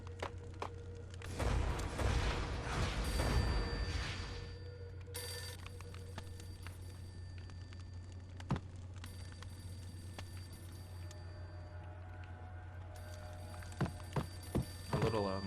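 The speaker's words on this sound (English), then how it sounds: "little phone is ringing." A telephone rings repeatedly in the Max Payne video game, its ringing bursts cutting through low, droning game ambience and an occasional thud.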